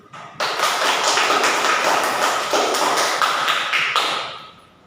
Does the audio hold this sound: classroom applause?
yes